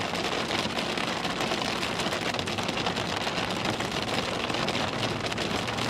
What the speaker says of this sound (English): Hopefully the rain isn't too loud.